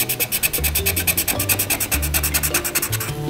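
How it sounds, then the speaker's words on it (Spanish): Cheap coloured pencils scratch and rasp across paper while drawing, a steady run of quick strokes with a dry, gritty texture, close and fairly loud with no talking over it. "Estos lápices, gente, son tan pero tan malos que escuchen el sonido que hacen cuando dibujamos."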